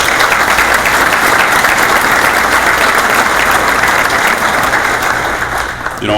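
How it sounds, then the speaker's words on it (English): A roomful of guests at an emergency services breakfast in St. Clair County, Michigan, gives a loud, steady round of applause that continues for several seconds and begins to fade at the close. "If I could have a round of applause for them."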